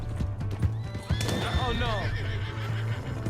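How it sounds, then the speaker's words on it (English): In the Red Dead Redemption 2 video game, a horse whinnies sharply with trembling, falling cries over hoofbeats, while a brief spoken voice sounds near the start. "Hey, that's my horse!"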